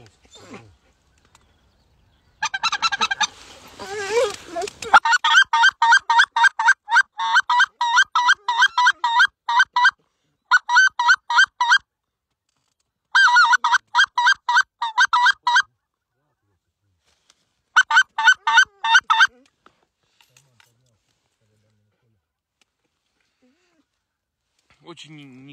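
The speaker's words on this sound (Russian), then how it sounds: "очень неконтактный гусь." Geese call from a hunting blind in repeated bursts of rapid, loud honking with brief pauses between, trailing off into near silence toward the end.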